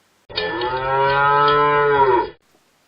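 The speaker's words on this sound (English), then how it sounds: "Congratulations! You're the proud owner of a brand new cow." A single long cow moo, loud and close, rising in and holding steady for about two seconds before stopping cleanly, alone without other sounds.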